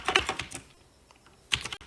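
Quick bursts of keystrokes on a computer keyboard while typing a search into a Chrome browser, a short flurry, a pause, then another brief cluster of clicks, close and fairly loud with no voices.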